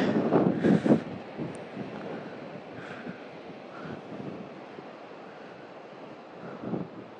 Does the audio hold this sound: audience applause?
no